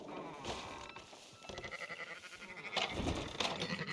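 Sheep bleat repeatedly in Red Dead Redemption 2, with several wavering, nasal cries at moderate distance over a low ambient background, the last calls coming a little louder and closer.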